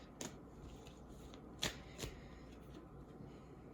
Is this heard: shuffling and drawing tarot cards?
yes